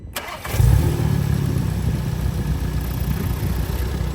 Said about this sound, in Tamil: இன்ஜின் ஸ்டார்ட் பண்ணி பார்ப்போமா.